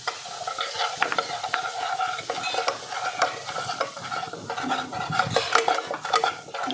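Gram flour and cumin roasting in hot oil in a kadhai over low heat, with a steady close scraping of a spoon stirring against the pan over a soft continuous sizzle; no voices.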